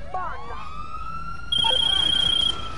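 A police car siren wails loud and close, its steady tones sweeping high, with the sound getting louder and harsher partway through; a few voices are faintly mixed in.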